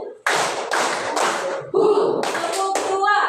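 Children clap together in a classroom clapping game, several bursts of group claps with a teacher's voice and kids' voices between them.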